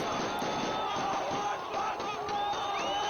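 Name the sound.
unruly crowd uproar in Syria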